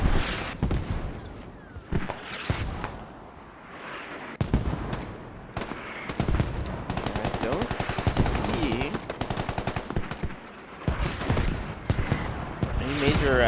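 Mortar impacts and gunfire in the video game Squad: sustained machine-gun bursts and loud booming blasts, some close and some distant, with someone talking over the battle.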